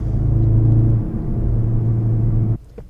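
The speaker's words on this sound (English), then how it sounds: "There is some artificial noise coming through the cabin." Steady low artificial engine drone piped into the cabin of a 2017 Ford Focus RS 2.3, a constant humming rumble at moderate volume that cuts off abruptly near the end.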